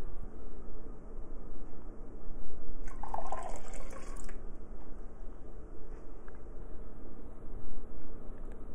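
Water trickles and splashes into a liquid hand soap mixture, a steady wet pouring with soft drips and squishy sloshing close by.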